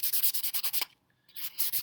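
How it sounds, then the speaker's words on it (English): A sanding block wrapped in sandpaper rubs back and forth over a surface in quick, even strokes, close by, pausing briefly before the rhythmic rasping resumes. "I'm going to rough it up just a little bit more. This sanding block has sandpaper on all of the sides"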